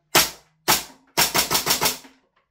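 Umarex VFC MP5K gas blowback airsoft submachine gun firing semi-auto, with sharp, close, loud shots: two single reports, then a quicker string of five.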